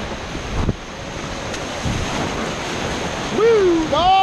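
Rushing whitewater of the Ocoee river churning around a paddling raft, a constant roar mixed with wind buffeting the microphone and a few high whistling tones near the end.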